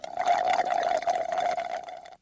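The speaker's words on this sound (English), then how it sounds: "If you guessed drinking through a straw or slurping or the sound of an empty glass" A wet, gurgling slurp of a drink sucked through a straw, close and fairly loud, sputtering continuously for about two seconds before stopping abruptly.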